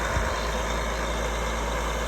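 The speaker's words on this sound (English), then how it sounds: "So what you're hearing is the well." A steady mechanical drone with a strong low hum runs continuously from a water well pump working nearby, with no voices.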